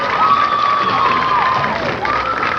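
A crowd at a ten-pin bowling tournament cheers and whoops loudly after a strike, a dense continuous roar with shouted voices rising above it.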